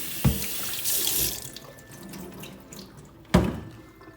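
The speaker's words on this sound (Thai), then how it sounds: "แล้วก็นำมาล้างทำความสะอาด เอาฝุ่นละอองออกนะคะ" Lingonberries are rinsed under a running kitchen tap, with short gushes of water splashing into a sink and a few faint clinks in between, close by and without talk.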